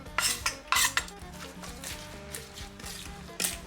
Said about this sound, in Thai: หั่นหั่นแล้วก็ไป คลุกเขากับมะม่วงค่ะ